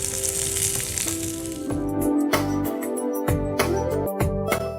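Beans, carrots, peas and sweet corn sauté in a hot pan with salt for a jowar upma, a steady loud sizzle that breaks into crackling pops and stirring clatter.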